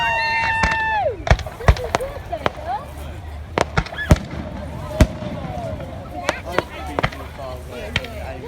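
Fireworks exploding over Bognor Pier, a string of sharp bangs and cracks at irregular intervals, with whistling rockets rising early on and a crowd murmuring and talking underneath.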